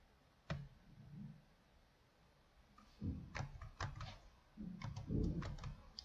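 Bursts of keystrokes on a computer keyboard while entering code, sharp clicks in quick irregular clusters separated by pauses, fairly close and quiet.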